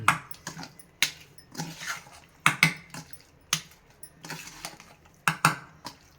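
A spoon scrapes and clinks against a pan while stirring fried paneer cubes into onion-flavoured oil for paneer dum biryani, irregular metallic taps and scrapes close up, with no talk.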